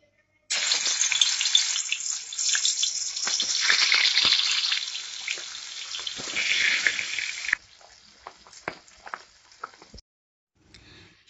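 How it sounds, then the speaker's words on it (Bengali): Magur catfish frying in hot oil in a wok, a loud close sizzle with spattering crackles that settles into quieter, sparse popping after several seconds. "প্রথমে মাছগুলোকে ভেজে নেব"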